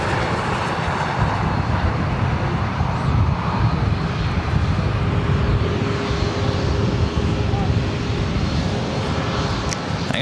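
A Southwest Airlines Boeing 737 MAX 8 airliner at LAX, heard as a steady, loud jet engine roar that holds constant and broadband throughout, with no voices.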